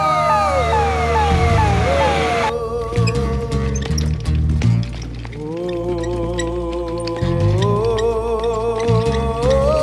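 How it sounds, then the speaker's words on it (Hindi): A wailing ambulance siren in a Hindi-dubbed South Indian action thriller film rises and falls loudly for about two seconds, then gives way to dramatic background music. "एम्बुलेंस।"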